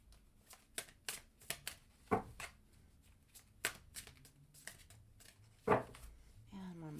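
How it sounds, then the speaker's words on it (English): Tarot cards are shuffled by hand in a run of quick riffling bursts and soft slaps of varying loudness, with some sharper snaps near the end and occasional quiet background sounds between them. "And one more shuffle."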